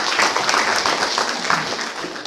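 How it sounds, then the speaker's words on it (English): A hall audience at the valedictory ceremony of a national moot court competition applauds a distinguished guest, a former Chief Justice of the High Court of Kerala, with steady, dense clapping that fills the whole moment without pause. "So let's again give a big round of applause."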